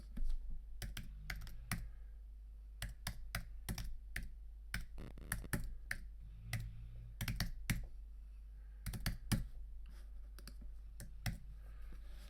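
An email address and password are typed on a computer keyboard in quick, irregular bursts of close, crisp key clicks with short pauses between them, in a quiet room with no talking.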